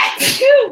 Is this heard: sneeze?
yes